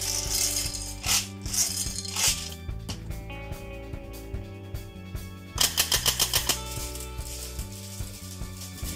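A homemade sentry turret built on a cheap airsoft gearbox with a 3D-printed hopper and front barrel fires in rapid mechanical bursts, rattling clicks and whirring in quick trains, loud and close.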